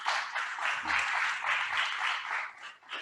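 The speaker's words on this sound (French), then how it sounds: "Applaudissements, manifestez-vous s'il vous plaît, le public." Audience applause at the Alter'Actifs 2021 event, a steady wash of many hands clapping at moderate volume through the whole stretch, easing slightly near the end with no voices over it.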